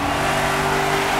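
A race car engine in the Cars 3 video game holds a steady, loud, droning whine at constant revs, close and continuous with no talking.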